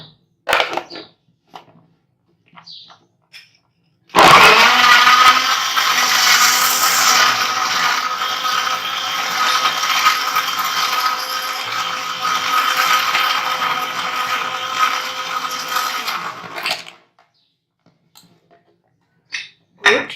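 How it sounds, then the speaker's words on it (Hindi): A blender crushing ice cubes into a raw mango (kairi) sharbat in a home kitchen runs as a loud, steady grinding whir for about thirteen seconds, starting abruptly and cutting off cleanly, with quiet before and after. "अब हमने इसमें बर्फ क्यूब्स ऐड करके और फिर ब्लेंडर चलाना है।"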